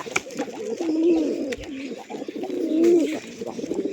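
Pigeons coo repeatedly in soft, rolling bursts, close by, with a few faint chirps and rustles in between.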